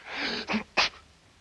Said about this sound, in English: Can a ghost sneeze?